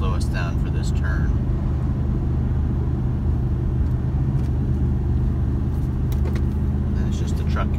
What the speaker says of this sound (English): it's just the truck engine holding us at this point